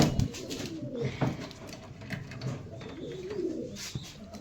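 Pigeons coo softly in a pigeon loft, several low burbling calls repeating at an easy pace, fairly quiet and close, with faint rustling around them.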